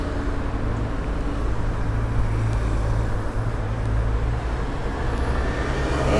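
Road traffic in Paris near the Île de la Cité: a continuous wash of car and heavy vehicle engines rumbling nearby, steady and fairly loud throughout with no voices.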